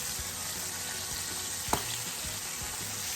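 Chicken livers fry steadily in a pan with a continuous close sizzle and crackle, broken once by a brief sharper pop partway through; no one speaks.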